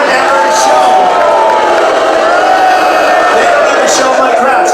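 Loud roaring crowd at a political rally, a constant wall of cheering and shouting voices held steady throughout.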